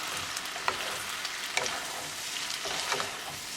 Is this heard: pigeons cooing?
no